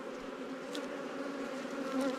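Honey bees fill a hive frame with a dense, steady buzzing drone, close by and continuous. Young bees are hatching from capped brood.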